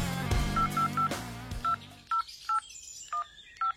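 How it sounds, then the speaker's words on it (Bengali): Several electronic keypad tones beep in quick succession as a phone number is dialed, after a brief rustle at the start. "পেরু এরপরে ইন্সপেক্টর শ্রীবাস্তবকে ফোন করল।"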